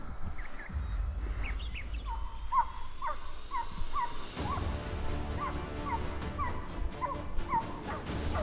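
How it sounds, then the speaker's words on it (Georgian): Hunting dogs on a predator hunt bark in repeated short yelps from a distance, one after another in an uneven rhythm, over a steady outdoor rumble. "ერთი ძაღლი აკრებს უკან, მეორე იქ წინ."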